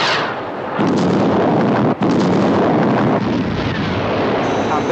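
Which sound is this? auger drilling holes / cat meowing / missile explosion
missile explosion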